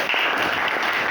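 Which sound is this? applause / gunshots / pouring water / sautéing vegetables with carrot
applause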